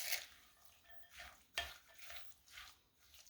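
A spoon stirs a vanilla butter topping for an old-fashioned oatmeal cake, giving soft, faint scraping and swishing strokes in a quiet kitchen, with one sharper scrape partway through.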